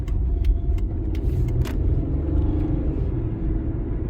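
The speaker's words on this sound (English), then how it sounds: "Okay, I'm going to do a 0 to 110 test." A 1997 Mitsubishi Magna TF pulls from a standstill up to freeway speed, its engine rumbling steadily from inside the cabin, with a few light clicks and rattles along the way.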